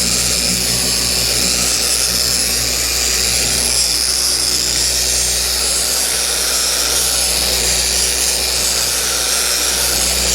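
A polisher with a polishing bonnet works over the paint of a Jeep XJ Cherokee, giving a steady, unbroken motor whir with a low hum and airy hiss, close and loud throughout.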